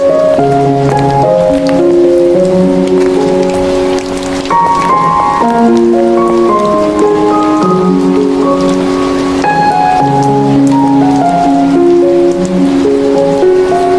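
Steady rain falls in the game Sakura School Simulator, a constant loud wash heard beneath a melodic music track that plays throughout.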